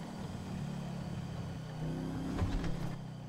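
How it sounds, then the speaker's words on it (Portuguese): A car engine runs steadily at a low, droning idle. The hum stays faint and even, with a slight swell and a few faint knocks near the end. "Acho que o carro vai parar."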